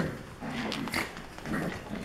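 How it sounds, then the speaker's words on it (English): Four-week-old puppies at play, giving small yelps, whimpers and low growls in a busy, continuous scuffle, fairly quiet and close, with no talking. "then they'll yelp and growl"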